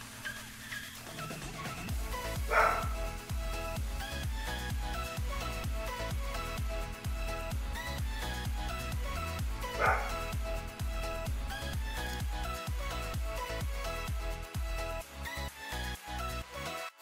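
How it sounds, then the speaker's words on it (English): A dog barks continuously in fast, regular bursts for the whole stretch, loud and close indoors, with a couple of sharper yelps standing out. "I do apologize for the dog barking."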